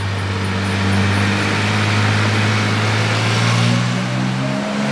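A flat-six engined car drones past nearby, its steady, loud engine note rising slightly and then easing off over several seconds.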